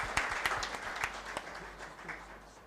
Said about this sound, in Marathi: किंवा जोरदार टाळ्या व्हायला पाहिजे.